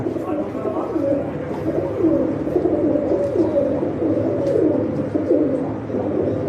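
Pigeons in a keeper's loft coo in soft, repeated low rolling calls, with a few sharper chirps, while people murmur faintly in the background.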